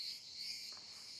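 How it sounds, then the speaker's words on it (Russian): Cicadas drone in a steady, dense high-pitched buzz that fills the whole stretch, faint and continuous with no voices over it. "Как можно перекричать этих цикад"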